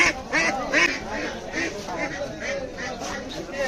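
Ducks at a riverside village poultry market where chickens and pigeons are also sold, quacking repeatedly at close range over busy market chatter and voices.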